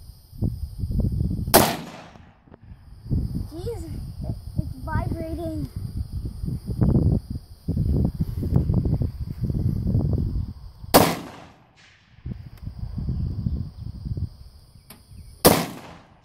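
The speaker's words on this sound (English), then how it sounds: "as many times as you pull the trigger is as many times as it's gonna shoot" Three sharp, loud AR-15 rifle shots crack out at wide, uneven intervals outdoors, with people talking between them.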